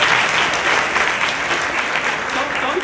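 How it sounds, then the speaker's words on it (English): Audience applause at a women's assembly, a steady, dense wash of many hands clapping at close range, sustained evenly for a few seconds with no voices standing out. "Can we give her another round of applause?"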